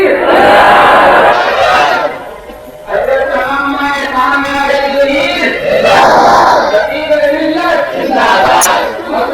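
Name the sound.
crowd chanting response to Nara-e-Takbir slogan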